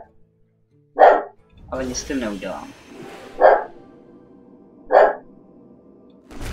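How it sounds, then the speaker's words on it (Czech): A dog barks indoors in three loud, evenly spaced single barks with a short yip at the end, heard between stretches of someone talking. "Teď se omlouvám, že štěká pes."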